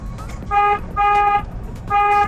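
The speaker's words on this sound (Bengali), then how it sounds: "হর্ন দেন হর্ন দেন" A car horn honks three times in short bursts, loud and close, with faint road noise between them.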